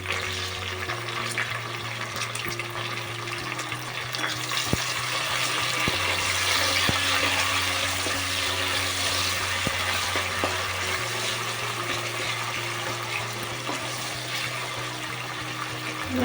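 Mint leaves and tomatoes frying in a pan while making mutton curry, a steady loud sizzling hiss with a low hum underneath that runs continuously without talk.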